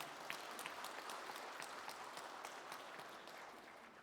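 Applause from a ceremony audience at a Daegu city commemoration event, faint and distant, with scattered sharp claps forming a steady patter throughout.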